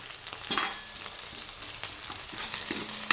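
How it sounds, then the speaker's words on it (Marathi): Spring onion and garlic frying in a pan, with a steady close sizzle and a few louder stirring scrapes spread through the short stretch. "यामध्ये लसूण घालत आहे"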